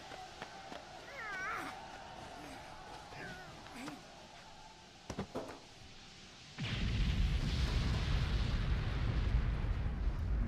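In the Wolfenstein anime film, a bomb blast bursts in suddenly after a quiet stretch of faint tones and soft sounds, then a loud, sustained roar of explosion rumble carries on to the end.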